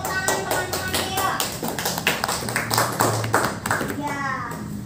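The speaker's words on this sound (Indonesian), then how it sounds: "Beri tepuk tangan teman-teman ya." Classmates in a school classroom clap for a pupil in a quick rhythmic pattern of loud, close claps, with children's voices chattering over and between the beats.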